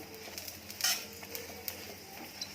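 A stuffed urad dal paratha fries in oil on a pan, giving a soft, steady sizzle with faint crackles and one brief scrape of a spatula, close and fairly quiet.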